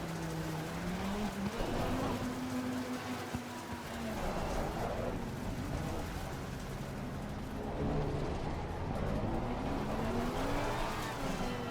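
Lamborghini Huracán GT3 Evo 2 racing engine at Spa-Francorchamps in a racing video game, a loud continuous drone with rising and falling pitch as the car accelerates and shifts, no talk.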